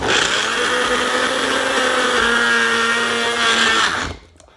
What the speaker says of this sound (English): send it into the magic bullet.